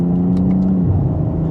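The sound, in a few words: 2025 BMW M340i exhaust note in sport mode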